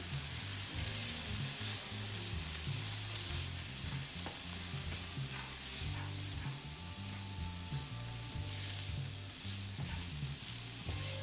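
Chopped garlic stirred in a pan as it sizzles gently for a homemade spaghetti sauce: steady bright frying hiss with occasional utensil taps, close and constant, no speech.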